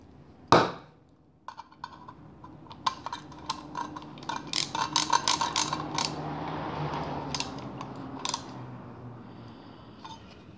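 Screws being tightened on the wire terminals of a 240 volt 30 amp plug, with a sharp knock at the start, then a long run of small clicks, ticks and scraping from the screwdriver, close and fairly quiet.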